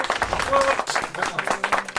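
Audience applause from a live gathering, a dense, steady wash of many hands clapping with a voice briefly rising over it.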